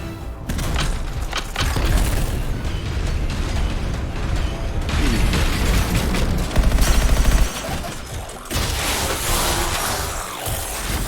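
Sustained gunfire in a video game pours toward the player, a dense, loud clatter of shots and mechanical rattling that keeps on for the whole stretch with brief shifts in intensity and almost no speech.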